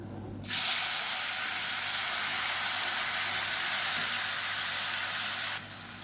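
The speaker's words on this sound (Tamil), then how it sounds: "இப்போ அதில் மீடியம் சைஸாக ரெண்டு தக்காளி சேர்த்துக்கலாம்" Two medium tomatoes frying in oil in a pan of kurma, giving a loud, steady broadband sizzle that surges in sharply and holds evenly for about five seconds before dropping off, with no voices.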